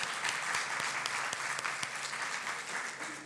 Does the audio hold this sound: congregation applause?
yes